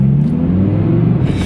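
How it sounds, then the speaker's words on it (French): Audi RS6 engine idling with its exhaust flaps open, a loud, steady low rumble with a deep droning tone that holds even throughout, with a slight swell of rasp near the end. "j'ouvre les clapets d'échappement parce que j'en ai marre, ils sont fermés"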